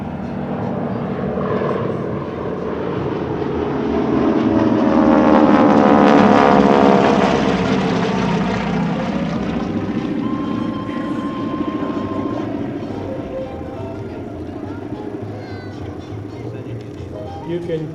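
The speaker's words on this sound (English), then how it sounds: "You can clearly hear the propeller on that pass. Now this airplane has a Pratt & Whitney R1340." A T-6 Texan propeller airplane with a Pratt & Whitney R1340 radial engine makes a strafing pass at an air force base air show, its loud droning roar swelling as it nears and fading away, with an announcer talking throughout.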